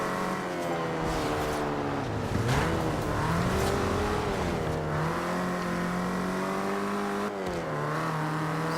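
A 1950s four-cylinder car engine in Forza Horizon 2 hums and revs up and down through several gear shifts, steady and close, with no talking.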